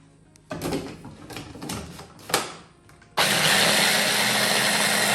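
A kitchen blender purees a meat sauce with salt and freshly ground pepper. After a few knocks and clatters, its motor starts abruptly and runs with a loud, steady whir to the end.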